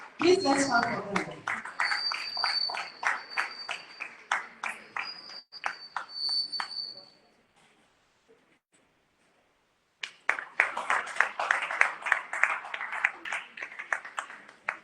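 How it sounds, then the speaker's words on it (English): A school audience at a scholarship contest claps for the contestants, crisp scattered handclaps with a faint ringing tone, pausing into near silence for a few seconds before a second round of applause. "Please let's clap for them."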